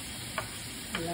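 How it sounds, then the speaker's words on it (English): Garlic fries in a pan on a stove with onion and ham alongside, a faint, steady sizzle broken by two brief scraping stirs, with no talking. "Need to cook the garlic first and the onion and the ham together."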